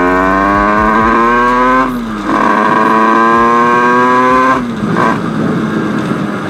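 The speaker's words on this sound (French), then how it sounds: "le bruit de la moto, on l'entend" A moped tuned with a Top Performance 80 kit screams close by at high revs, its pitch holding steady, dipping briefly on a gear change, then climbing again before easing off.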